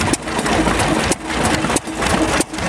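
1939 two-horsepower hit and miss engine at a tractor show, running with a steady chugging rhythm and sharp periodic firing beats roughly every two-thirds of a second, close and fairly loud.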